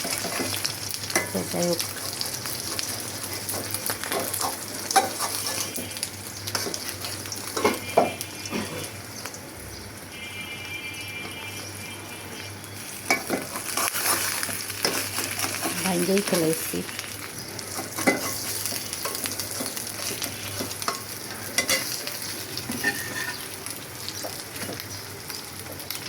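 Three eggs sizzle together in a frying pan, with a steady crackling hiss that runs throughout. Occasional utensil clinks and a brief spoken line come through over the frying.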